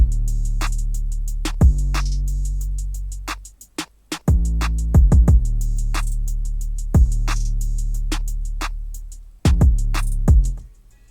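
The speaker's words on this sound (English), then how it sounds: "finally I added the 808 and it sounds like that." Deep, sustained 808 bass notes drone under a programmed beat of kick thumps and ticking hi-hats, dropping out briefly before returning.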